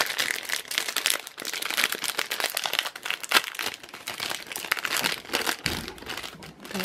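Paper and packaging from a Johnson & Johnson mail parcel crinkle and rustle continuously as it is torn open, close up with dense, busy crackling throughout.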